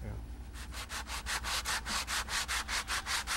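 Rhythmic sanding strokes smoothing a lifelike sculpture made of UV-stable plastic with a steel backer, a steady series of close, even back-and-forth rubs with no talk.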